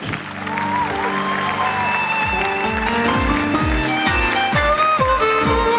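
A stage audience claps to welcome a performer, with dense, sustained applause that stays fairly loud throughout under bright stage music.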